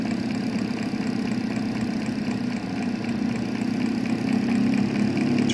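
A steady engine hum with a mid-range drone holds roughly constant, then rises slightly near the end as it is brought up to about 400 RPM for an ignition advance test.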